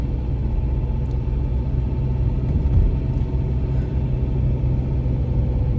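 Steady low rumble of a car driving on a road, heard from inside the cabin as constant engine and tyre noise with no talking.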